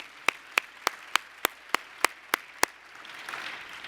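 Nine sharp, evenly spaced claps close to the microphone at a conference keynote, followed by a soft wash of distant audience applause rising at the end.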